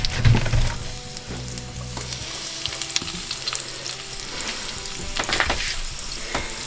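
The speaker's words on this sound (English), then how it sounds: "While this fish is frying" Fish fillets frying in a hot oiled pan, a bright continuous sizzle with crackling pops and occasional stirring or shifting sounds, close and steady, with no voices.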